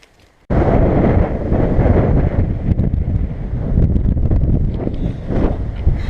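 Strong wind gusts roar across an exposed spot on the Clwydian mountain range, buffeting the microphone loudly and steadily after a sudden onset, with no talk.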